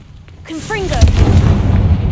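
A Confringo fire spell in the Hogwarts Legacy video game gives a short rising whistle, then a sharp burst and a rumbling, crackling blast that fades out.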